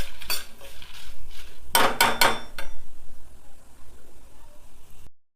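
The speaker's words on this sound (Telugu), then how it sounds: "ధనియాలు, జీలకర్ర, ఎండుమిర్చి మంచిగా వేయించుకోవాలి" Coriander seeds, cumin and dried red chillies dry roasting in a pan: loud close rattling and scraping as the spice mix is tossed, with a quick burst of rapid strokes midway, then quieter stirring and an abrupt stop.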